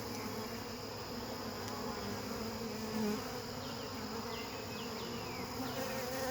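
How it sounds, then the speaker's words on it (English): Bees drone and buzz continuously nearby, a dense steady hum with individual insects passing close, and no talking. "It's really weird to have bees flying all around my head."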